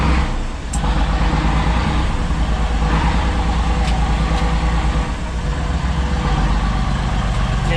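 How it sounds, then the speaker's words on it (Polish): A Zetor tractor engine runs in a steady, loud diesel idle close by, a continuous low rumble throughout with a few faint clicks on top and no starting crank evident. "Odpalimy sobie zatorka, już całe monatki mam tu w środku."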